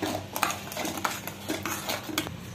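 A spoon scraping and clinking against a pan while coconut burfi mixture is stirred, giving irregular metallic taps and scrapes at close range with no talking.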